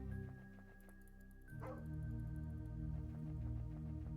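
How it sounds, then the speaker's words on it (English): Dog barking in the retro video game Skald, several short yips and barks over a droning, tonal game soundtrack, fairly faint and low in the mix. "Is that a dog?"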